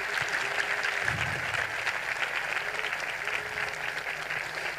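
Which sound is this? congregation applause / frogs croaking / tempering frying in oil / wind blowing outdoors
congregation applause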